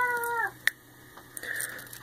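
A cat lets out a short meow with falling harmonics near the start, followed by quiet background and a brief faint higher cry later.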